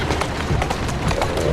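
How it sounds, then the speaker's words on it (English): Horse hooves clip-clop in quick, steady rhythm through a busy Victorian London street in the video game Assassin's Creed Syndicate, mixed with clattering carriage noise and a dense street bed, continuous and fairly loud. "The poor horses."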